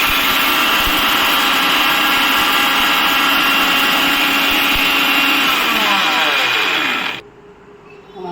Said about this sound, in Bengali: এখন আমি পাঁচফোড়নগুলোকে ব্লেন্ডারে নিয়ে গুঁড়ো করে নেব।